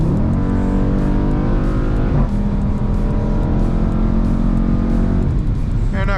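A 2020 Dodge Durango SRT engine pulls hard in track mode, a loud, steady droning roar that climbs in pitch, dips at a gear change and climbs again, heard from inside the cabin.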